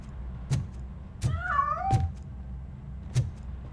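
A cat in the video game RoboCop: Rogue City meows a couple of times with rising, wavering cries, mixed with several sharp thumps and a low background hum.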